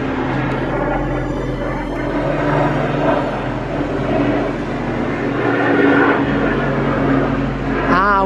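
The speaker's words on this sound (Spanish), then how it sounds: "Pero qué cantidad de helicópteros y de avionetas hoy." Continuous droning engine hum of a light aircraft passing overhead, swelling and fading gently, with a voice briefly audible near the end.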